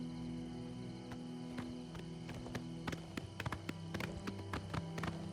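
Horse hooves in Oblivion Remastered clop in an uneven series of sharp taps while riding, moderately loud over a steady background hum, the beats growing denser toward the end.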